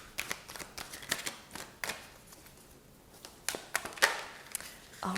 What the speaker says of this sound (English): So I'm gonna shuffle these right now.